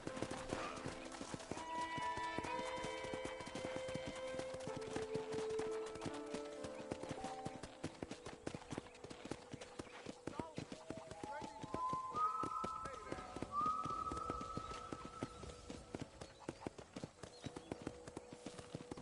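Steady clip-clopping hooves from a walking horse in the video game Red Dead Redemption run under a voice speaking over game music, with a brief whinny partway through.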